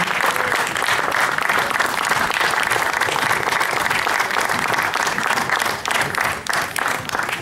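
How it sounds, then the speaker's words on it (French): Sustained audience applause at a community association sports-integration event, dense and steady throughout with no talk, easing only briefly near the end. "On peut les applaudir s'il vous plaît."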